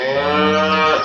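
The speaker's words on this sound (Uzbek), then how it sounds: "yangi tug'ilgan buzoqlar" A newborn calf on a cattle farm lets out one short, close, loud moo with a rich harmonic tone, alone with no talk.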